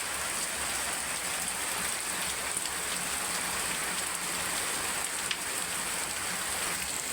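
Steady rain pours outside and splashes water into a home kitchen, a dense, even hiss of drops holding constant throughout with no voices.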